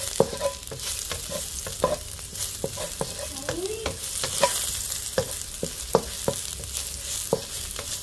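Shiitake mushrooms stir-fry in a pan over low heat: a steady gentle sizzle broken by frequent sharp spatula clicks and scrapes.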